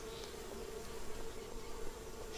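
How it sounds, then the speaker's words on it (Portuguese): Boca de renda stingless bees hum steadily around a crowded hive box, a continuous close buzzing drone with no voices over it. "a caixa filha tá super populosa. Muita abelha."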